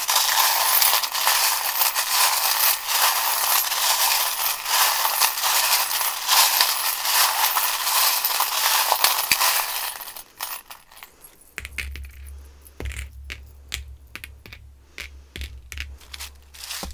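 Tarot charms, dice and small stones rattle and clink inside a metal tin, starting in a dense, continuous shaking jangle, then breaking into sparser clatters over a low hum.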